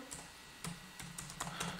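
Quick clicks of a computer keyboard as someone types a few keys, close and soft over a faint hum, with brief irregular pauses between strokes.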